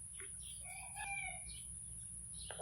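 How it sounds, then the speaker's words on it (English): Chickens at a rural Thai house on a smoky morning, with a few faint clucks and a crowing-like call, distant and quiet over a steady background hiss. "And we see the little chickens."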